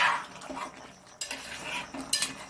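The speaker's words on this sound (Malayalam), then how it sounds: "അപ്പം ചിക്കനെല്ലാം നന്നായിട്ട് തിളച്ചിട്ടുണ്ട്. നമുക്കിനി ഇതൊന്ന് ഇളക്കിയെടുത്ത് വെക്കാം." Boiled chicken curry stirred in a pot: a few short scraping and clinking strokes of a spoon against the pot, close and moderately loud, over a faint bubbling hiss, with no voices.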